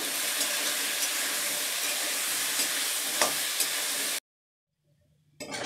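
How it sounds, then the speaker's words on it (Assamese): Potatoes seasoned with salt and turmeric fry in hot oil with a steady, dense sizzle and occasional stirring for about four seconds, then cut off abruptly to near silence before the frying noise briefly returns. "সামান্য পরিমাণে হলুদ দিয়ে আলুটাকে এবার ভালো করে ভেজে তুলব"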